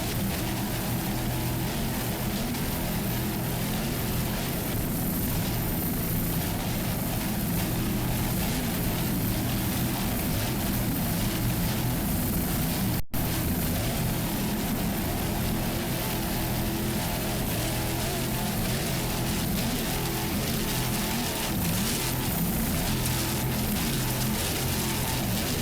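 Offshore P3-class powerboats racing off Miami Beach, a 38-foot Top Gun Cigarette and a 32-foot Viper Marine: a dense, continuous engine roar with wind and spray rush, loud and unbroken, with no talk.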